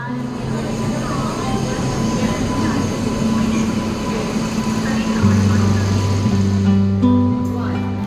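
An Indian passenger train rolls along with a steady low rumble, clattering wagons and sustained tonal hum, and indistinct voices murmur faintly in the background.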